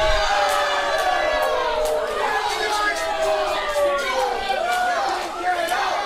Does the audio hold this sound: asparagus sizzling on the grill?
no